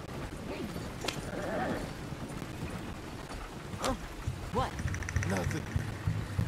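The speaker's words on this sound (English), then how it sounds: "I think the horse is getting skittish." Horse hooves clip-clopping with a brief whinny in the Red Dead Redemption 2 video game, sounding at moderate distance with faint low rumbling underneath, while people talk over parts of it.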